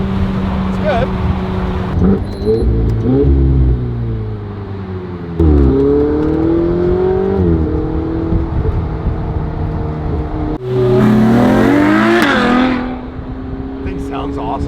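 A Ferrari sports car engine revs and accelerates in loud, rising sweeps with gear changes, climbing sharply once more near the end, with people talking over the engine at times.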